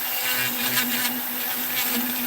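Close and loud, a Dremel rotary tool fitted with a Kutzall burr carves wood, giving a steady high-speed whir with a faint rasping grind as the burr bites in.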